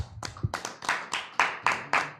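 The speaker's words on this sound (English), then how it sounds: "A round of applause for Biba, please." A few people clap steadily, sharp repeated hand claps at an even rhythm, close by, with no talking.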